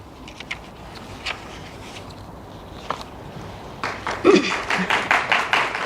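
An audience at a poetry reading breaks into applause, starting as a few scattered claps and swelling into a steady round of clapping from a small crowd.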